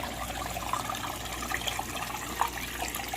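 Water runs steadily through a gold prospecting machine as material is fed in, a soft continuous trickling and splashing with scattered bubbling, fairly quiet and without voices.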